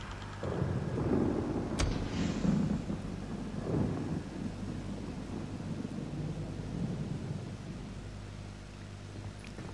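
A thunderstorm in the video game Days Gone, with deep rolling thunder rumbles over steady rain and wind noise and a few sharper cracks, continuous throughout and without talk.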